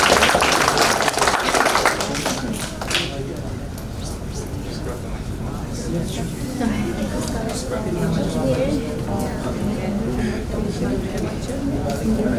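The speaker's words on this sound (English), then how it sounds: "Please give applause to group" An audience at a youth summit applauds a presenting group, a dense burst of clapping in the first two seconds that fades into murmuring and talk.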